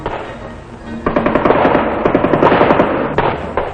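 An M60 general-purpose machine gun fires a sustained, loud, rapid stream of rounds outdoors during training in South Vietnam, the shots close and steady, with continuous background noise under the firing.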